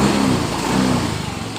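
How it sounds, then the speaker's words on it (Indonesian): A Yamaha Mio im3 scooter engine caught after two kicks of the kick starter and running at a steady, slightly uneven idle close by, with no voices. "Ketika kita engkol 2 kali, motor ini langsung hidup."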